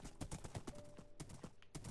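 Horse hooves clip-clop in a steady, fairly close rhythm while a rider travels in the Minecraft video game, with faint game sounds alongside.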